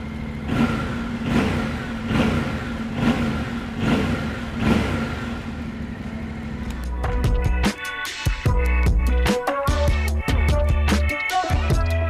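A Yamaha Tenere 700 World Raid adventure motorcycle with a 270-degree engine runs nearby, first as a steady pulsing rumble, then blipped into louder, choppier revs.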